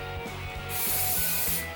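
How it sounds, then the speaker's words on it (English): A steady hiss of an aerosol hairspray burst, starting partway through and lasting about a second, close and fairly loud. "And then now you just want to take your hairspray"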